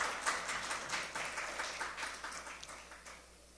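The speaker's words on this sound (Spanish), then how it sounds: "Denle un aplauso al Señor en esta mañana." A church congregation claps during a Spanish-language sermon, a soft, fairly distant wash of applause that slowly fades across a few seconds.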